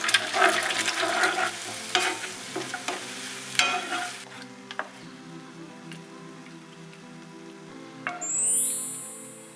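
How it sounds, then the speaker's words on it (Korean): Eggs sizzling and being stirred in a pan, with soft scraping and clicking of a utensil that fades to a quieter hiss. "지금은 달걀 스크램블을 만들려고 합니다."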